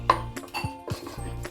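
A utensil stirs pineapple payasam in a metal cooking pan, giving a few sharp, close metallic clinks and scrapes spaced about half a second apart.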